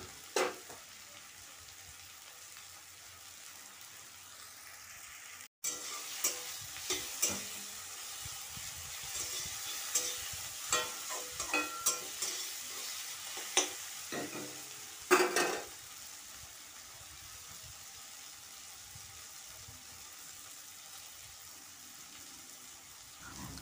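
Onion and tomato fry with salt in a pan, a steady close sizzle broken by repeated scraping and stirring strokes, with a short gap near the start and a sharper clatter toward the middle.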